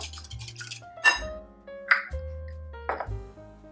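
Melted butter stirred in a bowl, with a few close, bright clinks and pings of a utensil against the rim and soft low scraping in between, no voices.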